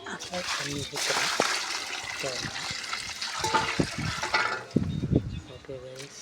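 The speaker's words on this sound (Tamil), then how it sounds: "தண்ணி ஊற்றுறோம்." Water poured onto tulsi plants in a home garden, heard as intermittent splashing and trickling close by, with people talking over it throughout.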